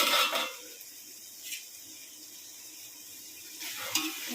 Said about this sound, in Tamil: இப்போ நம்ம இந்த கலவையை நல்லா கிண்டி விட்டுருக்கோம்.